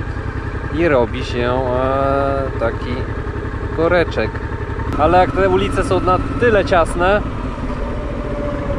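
A Honda Transalp 650 motorcycle engine idles and rumbles steadily in tight city traffic, a low continuous drone running beneath someone talking throughout.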